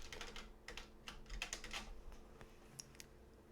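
Someone types a note on a computer keyboard, a quick irregular run of soft, close key taps in a quiet room with no speech.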